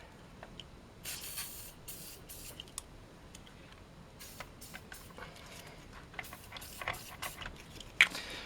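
WD-40 sprays from a can onto a grimy vintage Tamiya Lunchbox RC car found in a barn. Short hissing bursts repeat at irregular intervals, close and fairly quiet, among faint handling clicks.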